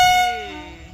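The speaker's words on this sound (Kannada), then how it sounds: "ಈಗ ನಮ್ಮ ಟ್ರೈನು ಬಿಟ್ಟೈತಿ ರೀ, ಈಗ ಜಸ್ಟ್ ಬಿಟ್ಟೈತಿ ರೀ." An Indian Railways train departing, a loud steady horn-like tone that sustains, then bends downward and fades over one second, with no talk.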